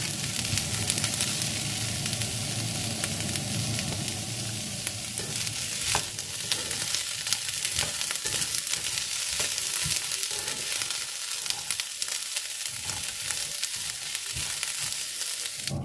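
Almonds are stirred and dry-roasted in a pan over low heat, giving a steady close sizzle and a rustling scrape that runs through the whole stretch, with scattered light clicks from the nuts shifting.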